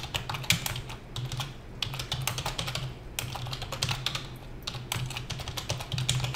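Steady typing on a computer keyboard while writing Java code in Notepad, rapid clattering keystrokes in continuous bursts with brief pauses, close and alone.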